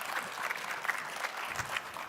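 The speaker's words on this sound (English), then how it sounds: "please join me in giving a big round of applause for our panelists" Conference audience applauding panelists, a brisk, close crowd of hands clapping steadily for about two seconds at moderate loudness.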